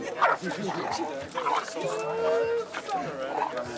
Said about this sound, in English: That's the ranchero dog right there.